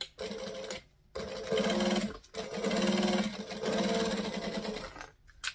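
A sewing machine runs in several bursts while basting beach bag panels together, its close, fast mechanical whirr stopping and starting with brief silent pauses between runs and no talking.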